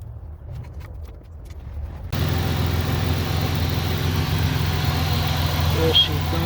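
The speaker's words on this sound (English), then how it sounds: "She's running now. She sounds good." A 1999 Pontiac Bonneville 3800 V6 engine runs after an intake manifold replacement, a steady low idle hum that starts suddenly and continues evenly and close by.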